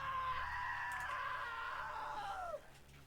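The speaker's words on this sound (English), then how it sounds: "Now that was a great scream." A drawn-out, high-pitched scream in the video game What Remains of Edith Finch, loud and sustained for about two and a half seconds before sliding down and cutting off, with no talk over it.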